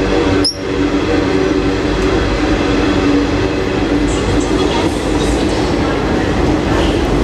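Garib Rath Express rolling into Jalgaon Junction: a loud, steady rumble of wheels and carriages runs throughout, with a brief high squeal near the start and faint clatter over the track.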